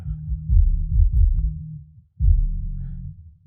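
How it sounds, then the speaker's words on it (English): Deep, booming low-end thumps, a couple of long resonant hits that swell and sustain before fading, isolated with no other instruments. "it's just a kick drum"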